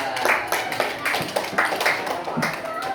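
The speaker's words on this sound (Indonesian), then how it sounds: "Tepuk tangan buat Naila" Primary-school children in a maths class clap for a classmate, a close, uneven patter of many hands with some distinct individual claps, lasting a few seconds.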